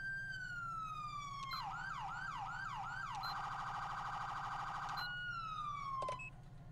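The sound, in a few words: police siren in a video game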